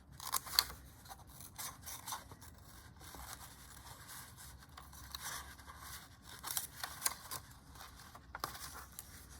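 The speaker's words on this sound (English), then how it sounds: "I might still use scissors for larger areas. It's just quicker." Quiet, repeated snips and crisp rustles of scissors cutting a paper stencil around a rosette, close up, in an uneven rhythm with no talking.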